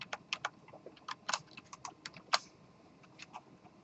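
Rapid typing on a computer keyboard in a classroom lecture setting, with uneven bursts of close, crisp key clicks and no voices.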